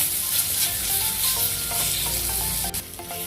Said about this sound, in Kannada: ಟೊಮೆಟೊ ಹಾಕಿ ಫ್ರೈ ಮಾಡೋಣ. ಟೊಮೆಟೊನ ಚೆನ್ನಾಗಿ ಫ್ರೈ ಆಗಬೇಕು.